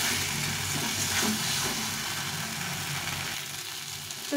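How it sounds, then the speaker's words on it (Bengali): Ground fish-curry masala for a soul fish jhal sautés in oil in a pan, a fairly quiet, continuous sizzle with soft stirring scrapes and no talking. "এটাকে ভালো করে একটু কষিয়ে নেবো এখন।"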